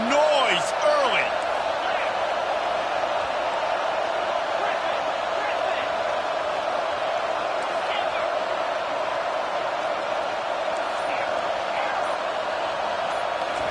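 Stadium crowd at a Georgia college football game, a steady broad roar of cheering and noise that holds loud and constant throughout, with a commentator's voice running over it.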